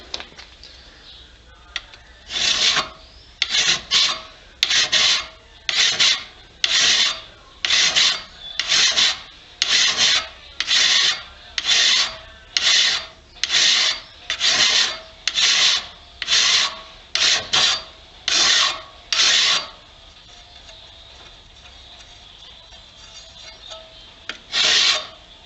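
A file is drawn across the edge of a steel card scraper, giving about seventeen even, rhythmic rasping strokes close up, then a quiet pause with faint scraping at the end.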